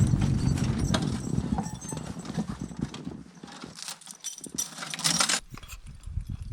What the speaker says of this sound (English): why I just love logging with horses